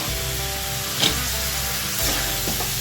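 Boiled cabbage tumbles into a pan of fried spiced potatoes, making a steady close sizzle with two sharp spatula scrapes about a second apart.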